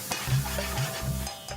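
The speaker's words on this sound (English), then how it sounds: "The chef fries some onions and some chili in a large frying pan." Onions and chili sizzle gently in a large frying pan with a few soft stirring scrapes, fairly quiet and steady.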